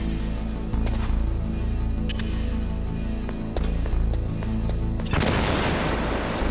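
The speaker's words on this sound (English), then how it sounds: "One of these explosions is gonna catch someone's attention" Heavy booming explosions in the video game Metal Gear Solid thud repeatedly under a constant electronic drone, ending in a big, loud blast with crackling debris.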